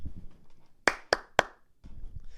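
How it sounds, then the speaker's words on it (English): Three sharp, close hand claps from a single person during a casual podcast conversation, spaced evenly, with quiet talk and room murmur before and after. "I'm going to give myself a wee round of applause."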